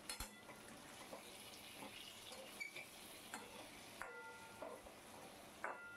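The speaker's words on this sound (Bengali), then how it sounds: "এবার ভালো করে মশলাগুলোকে নাড়িয়ে চাড়িয়ে নিচ্ছি, যাতে না পুড়ে যায় মশলাগুলো।" Ground cumin, coriander, red chilli and garam masala fry in a pan for chal potol, a soft continuous sizzle under repeated light scrapes and taps of a spoon being stirred, fairly quiet and close, with no voices.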